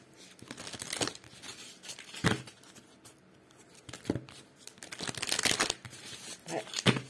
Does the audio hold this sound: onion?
no